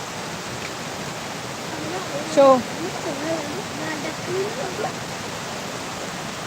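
A waterfall roars in the rain as a steady, broad wash of falling water, while someone speaks over it in short bursts close to the listener.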